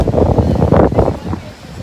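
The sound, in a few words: strong wind on the shore blowing into the microphone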